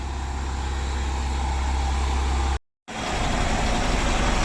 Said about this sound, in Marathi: गाडीने रेस पण कमी केल्या